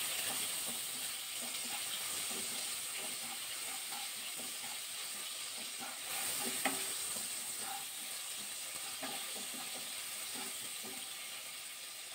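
Chopped tomatoes with salt fry in a pan for an okra bhindi jhal, making a soft, steady hissing sizzle with faint bubbling pops. It is quiet and continuous, with no talking.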